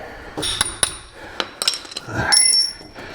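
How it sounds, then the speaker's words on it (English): Sharp metallic hammer strikes on the ball joint shaft of a 2018 Chevrolet, several close ringing taps spaced irregularly with bright clanging overtones and a final longer ringing hit. "that shaft still doesn't want to come right out, so I'm going to have to give it a few hits"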